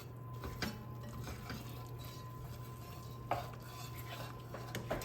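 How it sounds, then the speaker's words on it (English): A spoon stirs a flour mixture in a pot over low heat while making pot pie filling, with faint soft scrapes and light metallic taps on the pot against a quiet background. "So I'm gonna use this spoon over here, just kind of mix this up."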